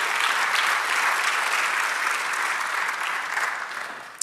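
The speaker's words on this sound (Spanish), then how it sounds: "dale un aplauso" A church congregation applauds during a Spanish-language service, broad, sustained clapping that stays full and even before tapering slightly at the end.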